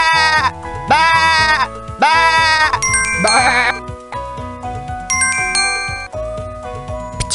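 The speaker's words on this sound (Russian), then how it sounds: "Овца." Two loud, wavering sheep bleats sound back to back, followed by chiming bell-like tones over a light musical backing, in the Russian version of the 1999 PC game Reader Rabbit Playtime for Baby.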